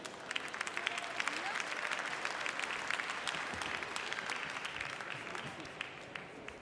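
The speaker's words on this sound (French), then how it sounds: "Applaudissements, c'est parti." Audience applause around the grand ring at a livestock competition, dense steady clapping from a crowd filling the whole stretch at moderate level.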